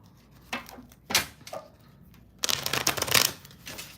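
Angel answer cards are handled and pulled from a deck, making a few close papery slides and shuffles, with a longer riffling burst near the end.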